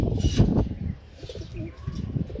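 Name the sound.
pigeons cooing in loft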